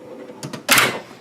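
Drawer on a Harbor Freight tool cart opening or closing, with two light clicks followed by a louder metallic slide and clunk, close by with no talking.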